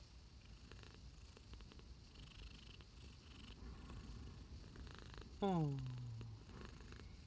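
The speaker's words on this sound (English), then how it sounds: "Listen to her purring." A cat purrs softly and steadily up close indoors on a windy desert day, a low continuous rumble, with a brief voice breaking in near the end.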